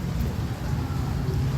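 Heavy rain pours in a steady, dense wash with low rumbling undertones, continuous and loud throughout, the first rain of the year, with no voices.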